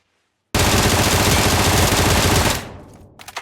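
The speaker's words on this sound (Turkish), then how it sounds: "bir korktun sanki famasının sesini böyle duyunca" A loud, rapid burst of FAMAS rifle fire in PUBG Mobile rattles for about two seconds at close range, then trails off into a few fainter shots.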